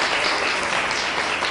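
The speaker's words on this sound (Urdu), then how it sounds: "ٹھیک ہے، بہت ہی تالیوں میں." Dense, steady applause from a studio audience at a Ramadan television transmission, filling the whole short stretch without a break.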